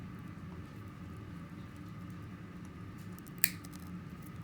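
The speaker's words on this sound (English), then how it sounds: "I'm going to take my wire cutters and just snip this off." Wire cutters give a single quick, sharp snip through wire near the end, close and crisp against a quiet, low background hum.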